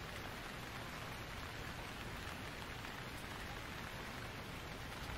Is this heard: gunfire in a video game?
no